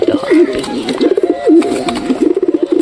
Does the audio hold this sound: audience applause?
no